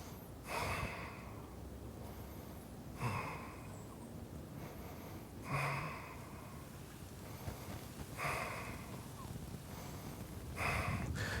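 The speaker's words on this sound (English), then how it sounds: "See if you can continue to breathe deeply." Deep breaths during a power yoga ab exercise, slow, close inhales and exhales repeating every couple of seconds in a quiet room.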